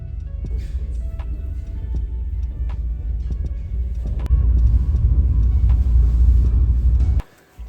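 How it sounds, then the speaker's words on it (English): Steady low rumble from inside a cable car in the Lauterbrunnen valley, Switzerland, with faint ticks and creaks over the continuous drone before it cuts out abruptly near the end. "We are now in the cable car."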